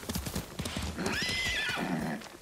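Horse in Ghost of Tsushima whinnies loudly over steady galloping hoofbeats, a close, clear neigh rising above the rhythmic clip-clop.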